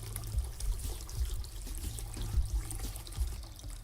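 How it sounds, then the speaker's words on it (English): Hands rinsed under a running tap, a close trickling stream of water with uneven splashes and dribbles, steady and moderately loud, with no speech. "Rinse hands."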